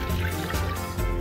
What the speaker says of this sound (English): now I will put 2 cups of hot water